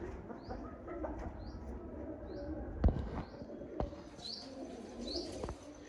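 Mirab pigeons chirping in a series of short, repeated high calls over a low background murmur, with a couple of sharp knocks partway through.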